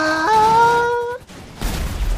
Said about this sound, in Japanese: いや爆発するんだよみんな